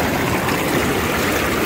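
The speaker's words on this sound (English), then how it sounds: "And the bubbles come back on." Bubble jets of a Lay-Z-Spa hot tub running, a loud steady rushing, frothing roar that fills the moment without pause or talk.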